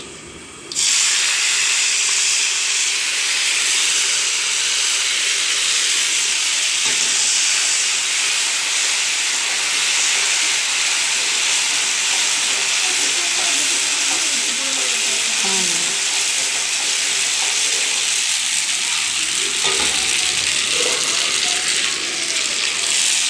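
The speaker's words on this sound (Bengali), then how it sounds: "দেখো কড়াইতে তেল দিয়ে দিচ্ছি, তেলটা হয়ে গেছে। এবার আদাটা দিয়ে দেবো।" Ginger hits hot oil in a wok and sets off a steady, loud sizzle and hiss that runs unbroken for over twenty seconds, with faint stirring scrapes underneath.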